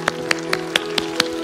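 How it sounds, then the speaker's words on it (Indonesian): Clapping at a children's church service, six evenly spaced claps at a steady rhythm, close and fairly loud over a sustained musical hum. "Beri tepuk tangan buat Tuhan Yesus."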